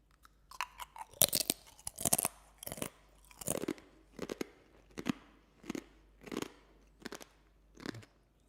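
Crisp crunching as a seasoned, herby tapioca chip is chewed up close, with about a dozen sharp bites and chews in a steady rhythm, loud and without talk.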